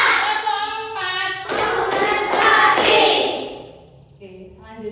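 A classroom of children claps along in a teacher-led rhythm, bursts of loud hand claps and thumps sounding close over a stretch of a few seconds, with a voice speaking before and after.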